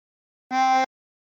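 A single tremolo harmonica note blown on hole 7 sounds for about a third of a second, steady and bright with a faint wavering shimmer, alone against silence.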